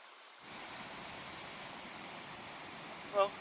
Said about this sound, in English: the Union Creek here flows right through the day use area.